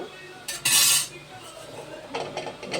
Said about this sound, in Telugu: మగ్గిని ఇందులోనే శనగలు వేస్తున్నాను.